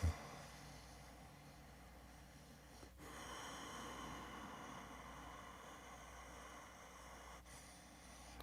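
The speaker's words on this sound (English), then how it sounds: "you will learn to like slow your breathing down" Slow, deliberate breathing demonstrated as a relaxation exercise: one long, soft, steady airflow with faint breaths at the start and end, quiet and close, with no talking.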